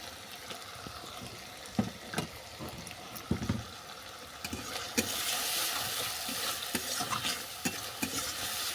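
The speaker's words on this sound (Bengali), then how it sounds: "এই সমস্ত মশলা ভালো করে কষিয়ে নিচ্ছি" Turmeric and chilli powder spices sauté in a pan, a soft sizzle under repeated scraping and stirring clatters, growing louder and more frying-heavy midway.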